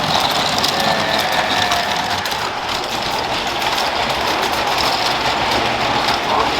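A LEGO City 60337 train fitted with a Jacobs bogie upgrade runs along its track, giving a continuous close whirring motor hum with rapid fine rattling and no pauses.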